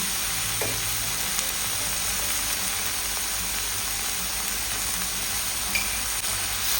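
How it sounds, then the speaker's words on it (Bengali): Turmeric, chilli and salt frying in a small amount of oil in a home kitchen, a steady close sizzle with occasional stirring scrapes, heard alone without talk. "খুবই অল্প তেলে আমি রান্নাটা করছি"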